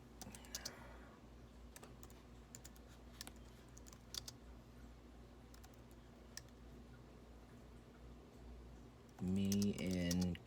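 Computer keyboard typing with quick irregular key clicks at close range during monthly summary note entry on an online portal, ending in a brief burst of speech.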